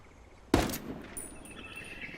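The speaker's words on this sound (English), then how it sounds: "I'm going to rescope in with the MDR, take a couple more shots" A single sharp MDR assault rifle shot in Ghost Recon Wildlands, a loud close crack with a short decaying tail, followed by quiet ambience.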